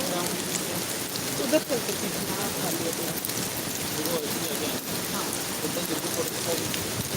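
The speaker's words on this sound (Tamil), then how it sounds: "மழை பெஞ்சிட்டு இருக்கு." Rain falls steadily outdoors, a close, continuous hiss and patter of drops on surfaces throughout, with faint background murmur and no clear speech.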